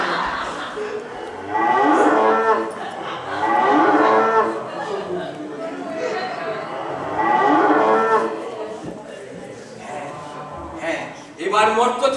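Actors in a stage drama imitate cows with drawn-out mooing calls, several voices in long overlapping bursts that repeat over the scene.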